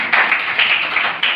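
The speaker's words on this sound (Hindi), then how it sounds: "पीयूष के लिए ताली बजाइए" A classroom claps for a student, a short burst of bright, brisk applause from a group, close and loud, with rhythmic peaks across the moment.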